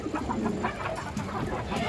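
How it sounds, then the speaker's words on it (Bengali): A female pigeon gives soft, low murmuring coos in short repeated bursts, faint and close, with no voices present. "অনেক ভালো একটা মাদি কবুতর"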